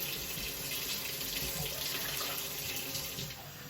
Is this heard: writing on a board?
no